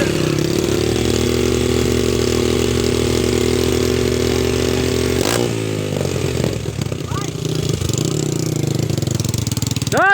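A motorcycle engine runs loud and close after the bike plunged into a waterfall on a trail ride, holding a steady rough drone before sputtering and dropping off, with people shouting over it.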